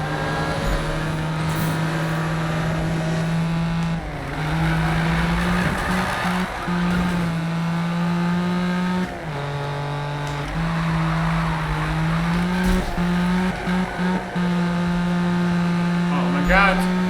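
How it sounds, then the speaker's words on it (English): A car sliding and drifting in the Need for Speed (2015) video game, a sustained engine drone that dips and rises as the car loses grip, loud and continuous, with someone talking over it. "Oh my god, this car sliding around is pretty annoying."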